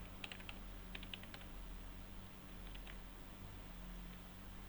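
Keys on a computer keyboard tapped in short irregular bursts, soft and close, over a steady low hum with long quiet gaps between the clusters of keystrokes.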